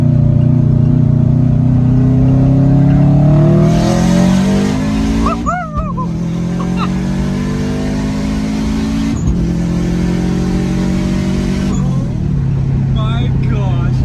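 Turbocharged Subaru Forester with an STI engine swap accelerating hard, its loud engine climbing through gears with brief shift breaks, steady and close inside the cabin, with people talking over it.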